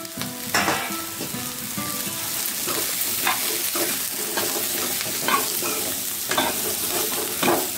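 Chopped okra sizzles and fries in a kadai with onion and a pinch of turmeric, a spoon scraping and stirring in a steady, close rhythm over continuous crackle.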